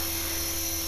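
A radio-controlled LH-450bb helicopter runs steadily nearby, its motor and rotor holding a constant high whine with a strong tonal hum and no pauses.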